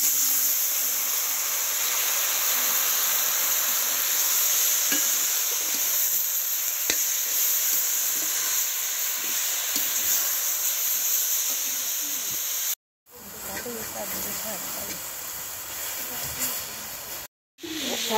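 Leafy greens (shak) fry in a pan in a village kitchen, a steady broadband sizzle with faint stirring clatter, running continuously with two brief dropouts near the end.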